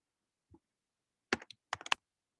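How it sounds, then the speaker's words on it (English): Typing on a computer keyboard during a real estate transaction class, a sparse burst of crisp key taps: one soft press, then two quick clusters of sharp clicks, close and isolated in a quiet room. "Just take the time and type in the full address."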